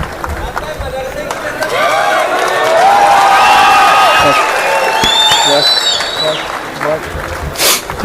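A crowd at a mushaira in Belgaum bursts into cheering and applause, loud and close, with shouts and whistles rising over it and a voice speaking through parts of it.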